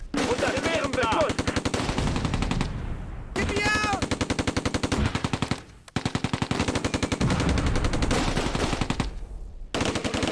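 Sustained bursts of machine gun fire ring out in the World War II strategy game Close Combat: A Bridge Too Far, loud rapid volleys broken by brief pauses, with a faint voice underneath.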